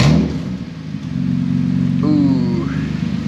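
A BMW M2 Competition engine with straight-piped exhaust cranks and catches on first start, then idles with a loud, raspy, unmuffled rumble and a quick rev that rises in pitch.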